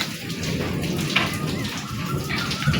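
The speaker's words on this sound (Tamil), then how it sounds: "மழை கொட்டி தீர்த்து பிடிச்சி." Heavy rain pours down in a steady, dense hiss of close drops hitting surfaces, continuous and loud with no pauses.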